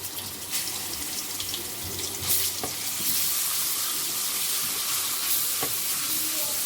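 Whole spices, curry leaves, black cardamom, cinnamon, black pepper and cloves fry with a spoonful of ginger garlic paste for chicken korma, giving a steady close hiss and crackle with scattered pops throughout, and nobody speaks.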